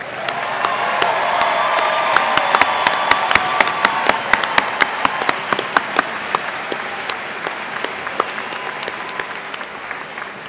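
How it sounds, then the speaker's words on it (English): A large commencement crowd breaks into loud, sustained applause for the graduates, dense clapping with crisp individual claps close by and a faint cheer mixed in, steady for the whole stretch. "How about one big round of applause for all these graduates?"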